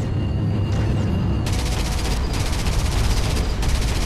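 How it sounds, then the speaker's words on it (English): A tank's coax gun fires in the video game Battlezone, a rapid, sustained, loud burst of automatic shots that clatters on without a break after a short lead-in. "our coax gun is good"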